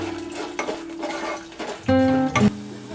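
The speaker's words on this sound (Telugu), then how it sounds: "ఆయిల్ వేడెక్కింది కదా, దీంట్లో 2 స్పూన్స్ శనగపప్పు, 2 స్పూన్స్ మినప్పప్పు, అలాగే 2 స్పూన్స్ వేరుశనగ గుళ్ళు, 1/2 స్పూన్ ఆవాలు." Chana dal, urad dal, peanuts and mustard seeds frying in hot oil in a pan, with a spoon stirring and clinking against the metal, plus a louder clatter near the end.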